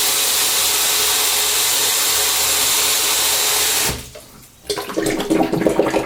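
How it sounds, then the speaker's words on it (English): Hot water runs loudly and steadily from a tap at a bathroom sink while preparing for a wet shave, then briefly cuts off before a splashy rinse starts up again close by. "So, running some hot water."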